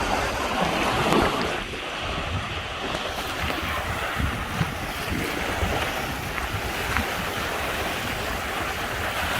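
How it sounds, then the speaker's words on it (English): Waves wash and churn continuously on open water aboard a sailboat on Lake Huron near Manitoulin Island, with heavy wind buffeting the microphone throughout. "The waves are ripping."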